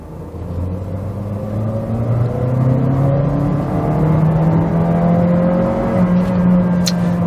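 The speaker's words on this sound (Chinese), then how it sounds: "我现在在2档，我来看一下它的顺态响应到底如何" Suzuki Vitara with a manual gearbox accelerating hard in second gear, the engine note rising steadily in pitch from inside the cabin, loud and continuous with no talking.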